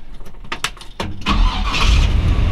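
A 1955 Chevrolet Bel Air two-door hardtop resto-mod with a ZZ4 350 V8 and 2¼-inch exhaust cranks briefly, then fires and settles into a loud, rumbling idle close by, with no talking.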